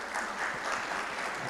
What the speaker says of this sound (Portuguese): Aplaudir a Deus por isso,